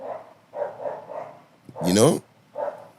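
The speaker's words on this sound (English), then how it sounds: "That's the first time I hear dogs on a podcast." Dogs bark several times in short repeated bursts, fairly close, with people talking over and between the barks during a podcast recording.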